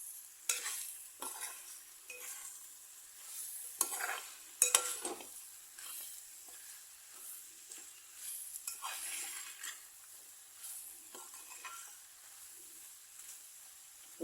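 Pork fry in a pan, seasoned with half a teaspoon of ground black pepper, masala powders and crushed dried red chillies, stirred steadily with a spoon scraping the pan over a continuous close sizzle, with no voices.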